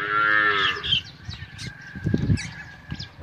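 A crossbred cow at a cattle sale in Punjab, Pakistan, lets out a loud, close moo at the start, followed by quieter rustling and faint bird chirps in the open air.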